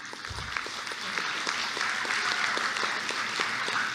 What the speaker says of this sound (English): Let's have one more round of applause for our guest, Corey Guest